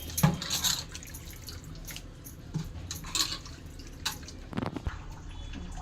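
Water splashes and drips intermittently as spinach leaves are rinsed, with soft sloshing and scattered clinks, fairly quiet and close.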